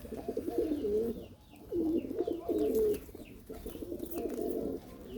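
Pigeons cooing in a loft: repeated low, throaty coo phrases in three or four bursts separated by short pauses, fairly close, with no talking.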